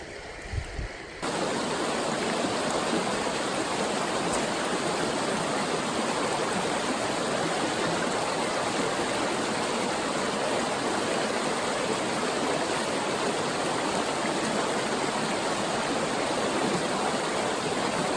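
Steady broadband rush of a brook trout stream flowing over its bed on a December day in Luzerne County, Pennsylvania, continuous and fairly close after a brief quieter opening second.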